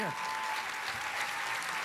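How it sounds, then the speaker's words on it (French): A television studio audience applauds the guests of a casting-themed game show, with continuous, even clapping throughout and a brief voice at the very start. "On applaudit nos invités du grand casting."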